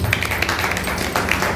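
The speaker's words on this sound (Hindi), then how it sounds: "जोरदार तालियां होनी चाहिए।" Audience applause at a community peace-of-mind programme honouring senior citizens: a steady, dense patter of many hands clapping, fairly loud and continuous throughout, with no talking.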